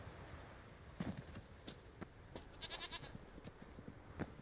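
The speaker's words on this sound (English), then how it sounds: "Hey there, Billy Goat." A billy goat in The Witcher 3 bleats in a short fluttering call amid faint hoof-like footsteps and sparse ticks, quiet and somewhat distant.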